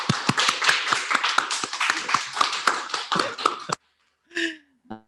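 A small audience at an online art and design seminar gives a brief, close round of scattered hand claps that stop abruptly, followed by a short bit of a speaker's voice.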